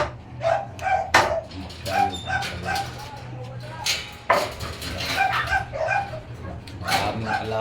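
A pet dog near a cat enclosure lets out repeated sharp barks mixed with high yips and whimpers, close and uneven in rhythm.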